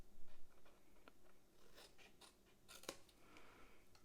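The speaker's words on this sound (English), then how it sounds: "we're going to come in and angle cut this tab here" Scissors angle-cutting the corner off a small paper tab for a flower-themed craft clutch, a few quiet snips and scratchy paper rustles spread across the moment, with one sharper crisp snip near the end, close and faint.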